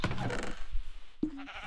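Sheep in the video game Minecraft bleat in short wavering calls, one near the start and another after a pause, fairly close and moderately loud over faint background sound.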